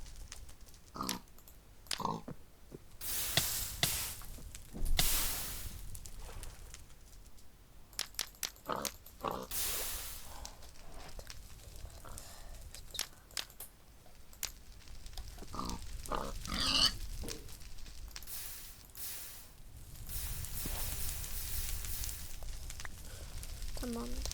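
A Minecraft pig grunts and snorts in scattered bursts amid game clatter and sizzling noise, moderately loud, with no one talking.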